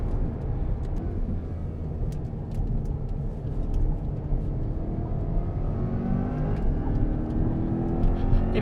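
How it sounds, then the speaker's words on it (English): A Corvette E-Ray on a race track with wide 275 front tires, heard as a steady loud roar of engine and road noise from inside the car, with a faint squealing of tires straining for grip building toward the end. "You can hear the tires scrabbling for grip up front as that front end is like clawing itself in."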